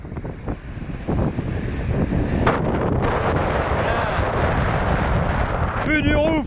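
Strong wind buffeting the microphone over sea spray and waves aboard a Lagoon 380 catamaran sailing close-hauled in 20 knots of wind, a steady roaring rush, with a voice talking near the end.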